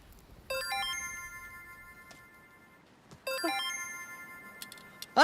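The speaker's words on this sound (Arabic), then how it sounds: "ده مش موبايل. رن اكتر يا كرومه." An electronic phone ringtone plays a bright, tonal melody in two loud bursts separated by a short pause, with no talking over it.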